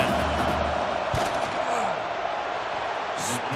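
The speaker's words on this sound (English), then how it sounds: "This crowd trying to do its part to get inside the kicker's head" A football stadium crowd roars steadily before a field goal attempt, a dense wash of voices with a few whoops rising over it, loud and continuous throughout.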